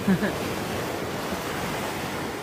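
Ocean waves break right at the shoreline of East Beach in Santa Barbara at high tide, a steady, loud wash of surf with some wind buffeting the microphone and no voices.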